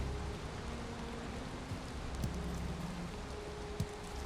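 Rain falls steadily in the video game Valheim, a soft even hiss of drops with faint scattered ticks and a low tonal hum underneath, continuous and fairly quiet.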